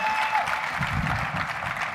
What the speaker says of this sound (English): Join me in welcoming them with some glitter Play-Doh and a warm round of applause.